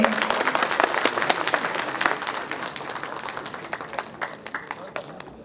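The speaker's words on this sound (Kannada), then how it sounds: "ಜೋರಾಗ ಒಂದು ಚಪ್ಪಾಳೆ ಬರ್ಲಿ" A crowd at a Kannada film song launch for the movie Phoenix claps loudly and continuously, a dense wash of applause that slowly thins out, with a voice talking over it.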